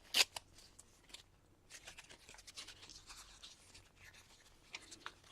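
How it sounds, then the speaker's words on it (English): Paper being torn by hand for a mixed-media collage, with a sharp close rip at the start followed by softer, intermittent crinkling and tearing bursts over the next few seconds. "Let's tear some off the bottom."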